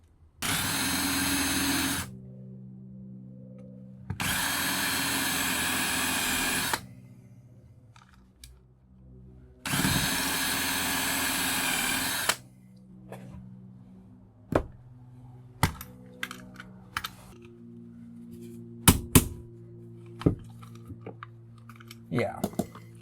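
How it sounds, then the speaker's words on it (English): A power drill bores out rivets on a circuit breaker in three loud bursts of about two to three seconds each, followed by scattered clicks and metallic clinks, with some talking. "This one we're going to drill the rivets"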